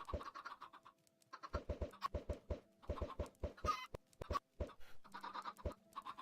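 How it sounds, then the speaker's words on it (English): Chickens on an underground farm in Minecraft give clipped, repeated clucks in quick clusters, close and clear, with short scratchy block and item sounds between them. "it's lucky that I was able to keep my dead chicken farm alive long enough to produce eggs for me"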